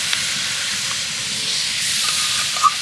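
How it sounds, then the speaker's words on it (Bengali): Sugarcane jaggery melts in a hot kadai for a raw mango pickle, giving off a steady, loud hiss that continues without break throughout. "এটা আমি কড়াইতে দিয়ে দিচ্ছি, কারণ এই গুড়টাকে আমি একটু গলিয়ে নেব।"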